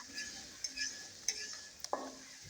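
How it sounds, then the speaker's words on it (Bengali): Ground spice masala of turmeric, salt and coriander powder is stirred and fried in a pan for a rui fish curry, giving a soft, faint sizzle with light scraping strokes and a few small utensil clinks. "এবার মশলাটাকে এভাবে নেড়ে চেড়ে নিয়ে ভালোভাবে ভুনা করে নিচ্ছি"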